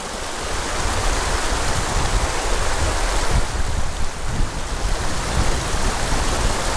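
Rushing water of a Montana mountain creek, a loud, continuous broadband flow with no speech, steady from start to finish.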